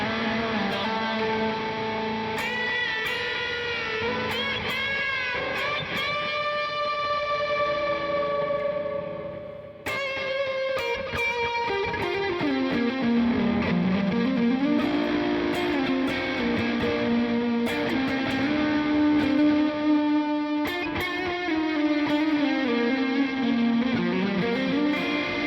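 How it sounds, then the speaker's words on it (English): Guitar run through reverb and delay pedals on a big pedalboard, washy echoing notes that swell and glide, with trailing repeats blending into a continuous loud ambient drone, no voices. "Here's some reverb and delay."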